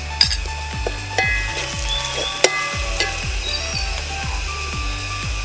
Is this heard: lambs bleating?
no